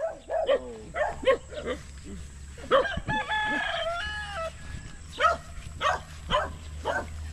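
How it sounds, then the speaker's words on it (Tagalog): Chickens on a farm, with a rooster crowing loudly once among repeated clucks and calls from nearby birds, a faint low hum underneath. "Dami palang manok dito."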